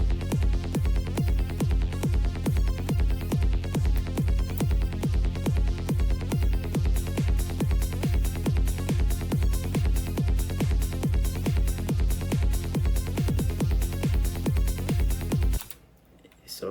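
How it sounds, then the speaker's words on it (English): An FL Studio drum pattern with three little kick drums loops steadily, a punchy regular beat of kicks and percussion layered over a bassline, stopping abruptly near the end. "3 little kicks. So it sounds like this instead."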